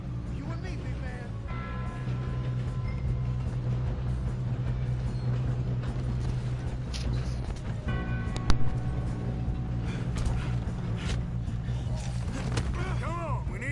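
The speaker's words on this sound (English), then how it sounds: "we need to stop this train" Steam train running in Red Dead Redemption 2, a steady low rumble and rolling rail noise throughout, with a sharp clank partway through and voices talking over it.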